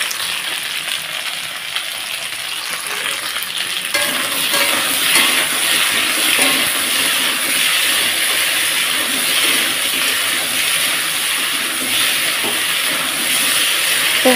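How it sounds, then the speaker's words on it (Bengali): Gathi kochu (taro) frying in a hot pan, a loud, continuous hiss of sizzling oil that steps up in intensity after a few seconds and holds steady throughout, with no talking. "এখন ভালোভাবে এটাকে ভেজে নেব একটু"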